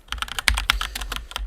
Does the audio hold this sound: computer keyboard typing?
yes